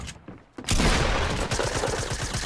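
A close, loud blast of gunfire from a pump shotgun in Fortnite, a burst of rapid reports that settles into a sustained rattling stream, preceded by a brief quieter moment.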